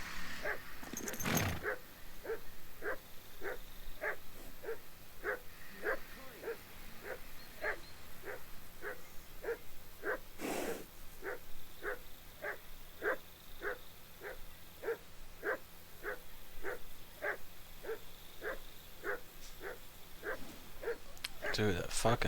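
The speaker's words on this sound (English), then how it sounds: "What are you fucking barking about?" Steady, regularly spaced dog barks from a dog in Kingdom Come: Deliverance II, repeating about every second for over twenty seconds at moderate distance, with a couple of sharp louder knocks and faint background tones.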